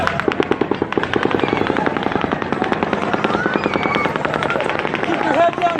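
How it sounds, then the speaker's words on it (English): Rapid volley of automatic gunfire at a mass shooting in Las Vegas, a long rattling burst of evenly spaced, fast shots with echoes under shouting voices. "At 10:11 and 34 seconds, the 7th volley of automatic gunfire begins."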